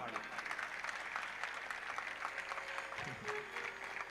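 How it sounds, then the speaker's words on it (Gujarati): Steady applause from a temple congregation honoring a swami continues throughout, a broad crowd clapping that stays even and full. "વિનય સ્વામીને જોઈને"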